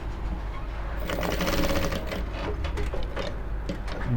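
A sewing machine stitches an Ankara fabric top, its needle running in a fast steady mechanical chatter, loud and close, with a low motor hum underneath and no talking.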